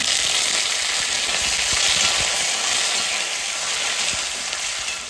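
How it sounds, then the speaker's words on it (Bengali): Curry leaves dropped into hot oil for South Indian sambar sizzle loudly and close, a bright continuous crackling hiss with a few sharper pops across the few seconds. "এখন দিয়ে দেবো এই কারি পাতা"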